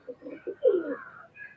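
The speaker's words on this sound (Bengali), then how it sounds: "চমৎকার কোয়ালিটির কবুতর" A Pakistani highflyer pigeon at a Khulna loft coos nearby, opening with a few short pulsing notes before a longer, louder rolling coo that trails off softly. No one speaks over it.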